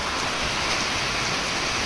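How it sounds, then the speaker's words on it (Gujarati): Rain falls on Gujarat farm fields during groundnut sowing in an even, hissing wash of noise, constant and fairly loud, with no pauses and no voices. "તો આ રીતનો વરસાદ ચાલુ થઈ ગયો છે"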